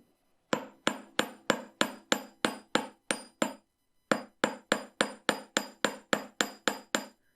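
Steady hammer blows flatten the end of a round wire into a tapered shape while forging earrings, a rhythmic run of sharp metallic strikes with a brief pause midway, close and alone.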